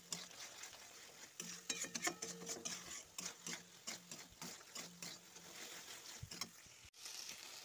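Masala for a rohu fish oil jhal is being fried down and stirred in a pan: a close run of rhythmic scraping and clattering strokes over a soft, steady hiss, with no talk.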